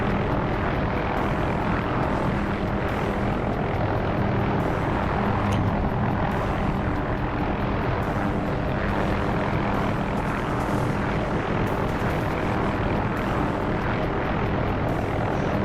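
A helicopter in a flight simulator game flies at cruising speed, a loud continuous rotor and engine drone that holds steady throughout, with no talking.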